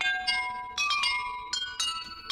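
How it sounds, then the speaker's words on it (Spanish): Bright bell tones play a melody in the Hogwarts Legacy video game, with several ringing struck notes in sequence, each decaying into the next. "Este tema que tocamos con las campanas"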